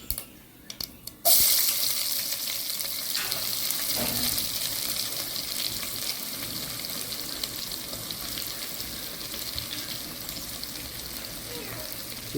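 Onion, tomato and spices frying in oil in a pan for quail masala, a steady close sizzle after a brief quieter start, continuous and moderately loud with faint background voice.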